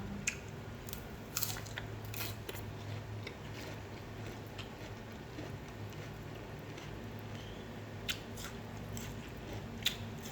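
Crunchy chewing and biting on spicy pounded apple snail salad with grilled mushrooms and crisp vegetables, with intermittent close, soft crunches and wet squishes over a quiet background.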